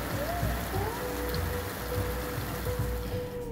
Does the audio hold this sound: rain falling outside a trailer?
yes